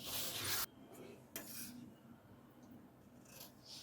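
Scissors cut shirt fabric along marked lines, giving a few close, soft rasping snips separated by quiet pauses, faint and with no speech.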